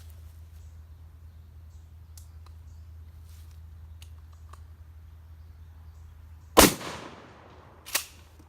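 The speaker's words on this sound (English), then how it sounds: "Second shotgun. To the left target." A shotgun fires at an outdoor target: one loud, sharp blast with a quick decaying echo near the end, followed about a second later by a second, weaker crack, after quiet ambient moments.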